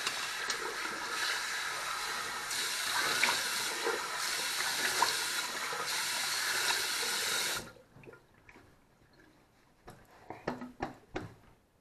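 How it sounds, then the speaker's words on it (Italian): Cold water runs from a tap in a steady, loud hiss for several seconds, then stops abruptly, leaving only a few faint drips and handling sounds. "Allora, acqua fredda."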